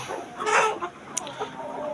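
Desi chickens on a poultry farm cluck close by in short, scattered bursts over a soft background hum, with no voices.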